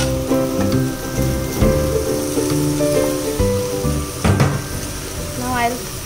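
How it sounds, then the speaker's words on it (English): Pasta frying in a pan with vegetables for masala pasta, a steady sizzle running throughout with occasional clinks and stirring, fairly loud and close, with a voice and background music-like tones mixed in. "Now I'll fry the pasta"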